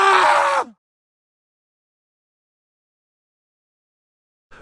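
A frightened man lets out one loud, strained scream at close range, lasting well under a second and trailing off into silence.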